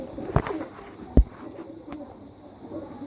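Soft cooing from a female pigeon among single pigeons kept at a loft, two short low coos standing out over a quiet, faintly noisy background.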